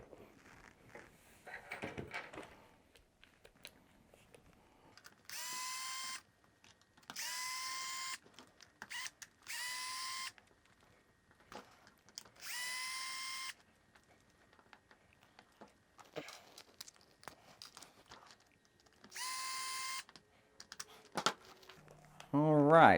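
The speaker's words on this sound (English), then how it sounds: "So I'm going to go ahead and remove those screws now." Screws being backed out of the radio box on an Arrma 1/10 RC truck, heard as roughly six short, even bursts of a motorized driver whirring up close, separated by quiet handling noises.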